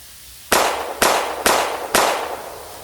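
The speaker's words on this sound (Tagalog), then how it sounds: "Babarilin ko na itong apat. Apat na putok." Four sharp, loud bangs go off in quick succession about half a second apart, each with a short echoing tail, from gunshots or firecrackers close by with no talking.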